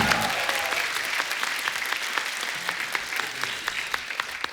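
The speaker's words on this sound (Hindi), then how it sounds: "जोरदार तालियां जीतू जी के लिए" A studio audience at a Hindi comedy talk show applauds loudly and steadily as a guest actor comes on, with claps packed densely and sustained throughout.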